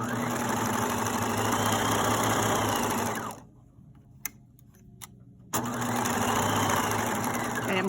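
A sewing machine stitches fabric in two runs, a fast steady whirring rattle up close, broken by a short pause with a few soft clicks as the needle and presser foot are adjusted.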